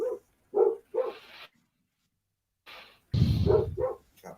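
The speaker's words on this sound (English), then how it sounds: "Has a random dog just got into Joe's house or something?" A dog barks in several short, sharp bursts, close and clear, with a brief pause before a louder final cluster of barks.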